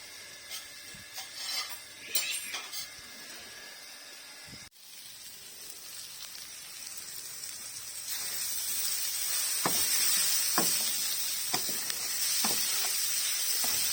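Eggplant pieces sizzle and hiss in oil in a pan while being stirred for menemen, a Turkish egg and tomato dish, with scraping utensil clicks growing louder and busier as the frying goes on.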